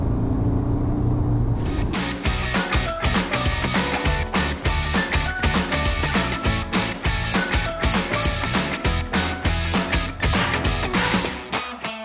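A 2017 Skoda Fabia Monte Carlo with a 1.4 TDI diesel engine is driven along, its engine and road noise cutting in abruptly after a quiet moment and holding a loud, steady, pulsing drone to the end.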